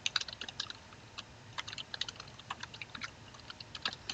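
Quick, irregular clicking of keys on a computer keyboard as a password is typed, close and fairly soft, with no talking.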